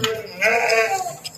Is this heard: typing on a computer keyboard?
no